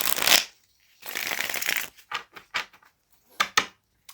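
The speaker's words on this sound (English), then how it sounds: "I do like to shuffle here on camera so that you guys can see that things are shuffled." A deck of cards is shuffled close up in several bursts: a long riffle, then a series of shorter crisp riffles and flicks separated by brief pauses, with no talking.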